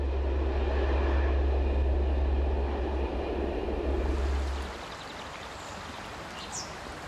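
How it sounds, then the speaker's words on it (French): A CC 72000 diesel locomotive hauls a train uphill into the nearly 3 km Sauvages tunnel, a loud, deep engine rumble that drops sharply as the train enters the tunnel, leaving a fainter rolling noise. "les trains ont perdu un bon tiers de leur vitesse lorsqu'ils pénètrent dans le long tunnel des Sauvages"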